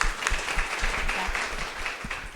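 Audience applause at a health-focused talk, a short burst of scattered clapping with a faint voice underneath.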